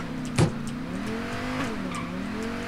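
A car driven in the Payday 2 video game, its engine humming and shifting pitch at close range, with a short bump or thud early on and a tire squeal.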